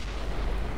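A heavy IS-8 tank cannon blast in World of Tanks, a loud, dense, close boom filling the whole short moment with no gap or tail.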